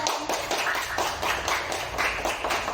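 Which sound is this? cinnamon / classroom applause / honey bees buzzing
classroom applause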